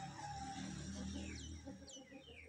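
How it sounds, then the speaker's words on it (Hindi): Aseel rooster in a small backyard mini zoo clucking and murmuring softly, with faint chirps from other birds nearby, quiet and continuous and without speech. "तो गाइस, ये देखेंगे हमारा असील मुर्गा"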